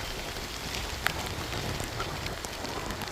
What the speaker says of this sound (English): you can always wait in here for the rain to pass